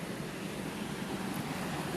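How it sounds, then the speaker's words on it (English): A waterfall in the Kanyouji Zen temple garden, a steady, dense rush of falling water with no breaks, close and fairly loud, heard alone without any voices. "Oh, waterfall too."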